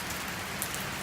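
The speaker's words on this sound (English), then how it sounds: "Finally we're getting some rain." Steady rain falls and patters on surfaces after a long dry spell, forming a continuous even hiss with a few louder drops. It is heard alone, without voices.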